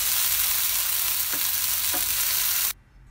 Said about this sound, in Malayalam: ഇതിൻ്റെ കൂടെ തന്നെ ഒരു 2 പച്ചമുളക് അരിഞ്ഞതും കൂടി ചേർത്തിട്ട് നന്നായിട്ടൊന്ന് മൂപ്പിച്ചെടുക്കുക.